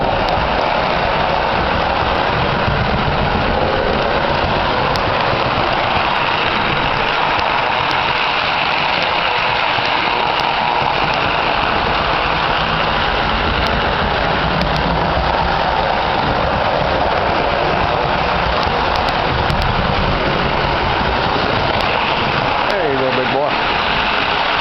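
A 1950 Lionel 736 Berkshire model train locomotive with a 12-wheel tender runs in reverse, giving off a steady close mechanical motor hum and rumble throughout, with brief talk.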